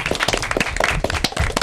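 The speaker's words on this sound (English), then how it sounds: "So I like to have a big round of applause for a job well done." Scattered, uneven clapping from a modest audience after an elementary school derby match, individual sharp claps standing out in an irregular rhythm rather than blending into a smooth roar.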